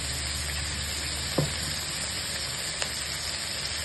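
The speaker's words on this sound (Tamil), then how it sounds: "பக்கம்லாம் ஆயில் போட்டுக்கலாம் வதங்கிறதுக்காக" Ginger-garlic paste sautéing in oil in a pot while making biryani, a steady close sizzle and hiss with two brief clinks of a utensil.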